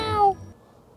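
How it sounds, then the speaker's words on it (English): A house cat gives one short, falling meow, close and fairly clear, fading quickly into quiet room noise. "That's my cat."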